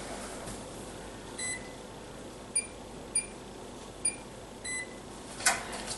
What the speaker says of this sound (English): the first thing you're going to do is preheat your oven to 400